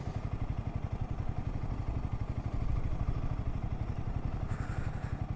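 Motorcycle engine running steadily on a coastal ride near Ratnagiri, a rapid even thumping pulse close by with a slight rise midway, no voices.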